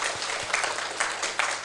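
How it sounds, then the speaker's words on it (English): Applause from a school debate audience for the participants, a steady clapping wash of moderate loudness with a few louder claps, continuing for under two seconds. "We give applause for all of us here."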